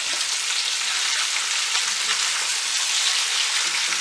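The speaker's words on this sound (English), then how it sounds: "We cook the chicken, not all the way through, but just to give it a nice brown colour." Chicken pieces and onions fry in a pan, giving a steady, close, hissing sizzle with faint crackles that continues unbroken, with no voices.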